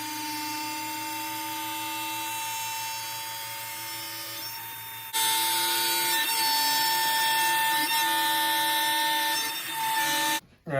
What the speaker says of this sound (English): So next step is we're gonna cut the rings out, outer ring, middle ring, and then the center ring.